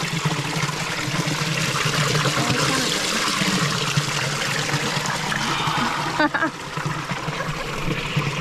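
Steady rushing water pours continuously, a close, full trickle and splash filling the space, with a brief dip near the end.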